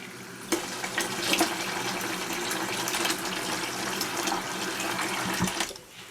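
Water runs steadily from a tap or pour for watering a potted oxalis triangularis in a plastic pot, a continuous gushing splash with a few clinks, no speech.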